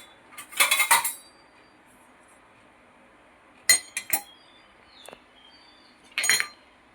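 A spoon stirs risen, fermented dosa batter in a pot, giving a few sharp metallic clinks in short bursts separated by quiet gaps.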